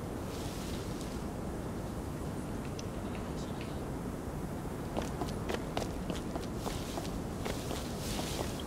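Footsteps running in the video game Rust, a fast run of soft crunchy steps that grows clearer in the second half of the clip, heard over a steady windy outdoor hiss.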